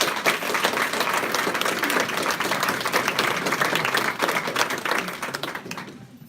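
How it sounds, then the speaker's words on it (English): A room full of people applauds candidates at a county Democratic Party political meeting, giving steady, loud, dense clapping for several seconds that fades out at the end. "all of you who have applauded and been so appreciative"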